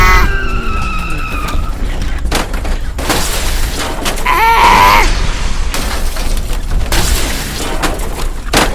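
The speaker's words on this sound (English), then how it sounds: "Wake up! Our truck crashed." Toy LEGO truck from a Jurassic World Fallen Kingdom dinosaur playset skidding and crashing, heard as loud screeching skid bursts and impact booms, repeated in several sharp hits with engine-like roaring in between.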